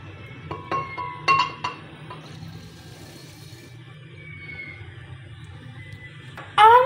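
Sugar spooned into a glass of milk for cold coffee: several bright clinks of a spoon against glass early on, a quieter stretch of low hum, then a louder burst of clattering at the end.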